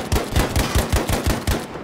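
Vehicle-mounted gun firing in Battlefield V, a rapid burst of about ten loud evenly spaced shots over two seconds, close and alone.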